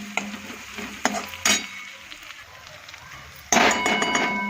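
Green onion and potato sautéing in a pan, a low close sizzle with a few scraping stirs, then a sudden louder burst of frying near the end.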